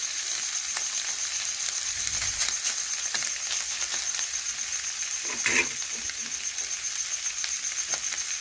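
Small fish frying in hot oil in a pan, with a constant crackling sizzle up close, scattered pops, and a brief louder spatter burst partway through, and nobody talking.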